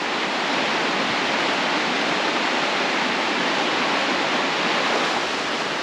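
Steady, full-bodied rush of a flowing, crystal-clear river on a hiking trail, continuous and fairly loud with no pauses or voices.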